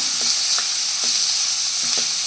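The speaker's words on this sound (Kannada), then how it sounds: "ಚೆನ್ನಾಗಿ ಫ್ರೈ ಆಗ್ತಾ ಇದೆ. ಇದು ಫ್ರೈ ಆದ ನಂತರ ನಾವು ಇದಕ್ಕೆ ಹೆಚ್ಚಿಕೊಂಡಿರೋ ಬೀಟ್ರೂಟನ್ನು ಸೇರಿಸ್ಕೊಳ್ಬೇಕು." Chopped beetroot fries in a pan for beetroot palya, giving a loud, continuous sizzle with a few light spatula taps and scrapes spaced through it.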